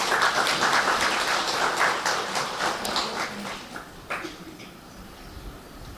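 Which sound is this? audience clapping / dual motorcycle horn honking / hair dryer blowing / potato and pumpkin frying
audience clapping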